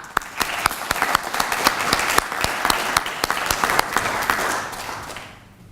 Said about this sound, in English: I really think perhaps we should again applaud Lynn for what she's been able to do.